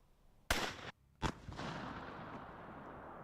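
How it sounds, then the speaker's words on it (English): An artillery shell firework fires with a sharp loud bang, followed by a second burst under a second later and a lingering crackling, hissing tail that fades slowly. "That looked like it was probably an artillery shell firework."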